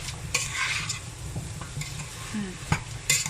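Sizzling stir-fry of ingredients and toasted rice for a Thai chicken-feet curry, with steady frying hiss and occasional scraping stirs, close and fairly loud throughout.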